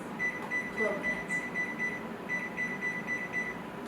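An oven timer gives a run of short, regular electronic beeps as it is set, thin and fairly quiet against faint room noise.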